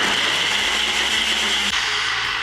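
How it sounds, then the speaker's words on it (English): A blender whirs steadily while blending a healthy ice cream mixture, a loud continuous motor drone with a slight pitch change near the end and no talking. "so I'm going to place it on top of the blender"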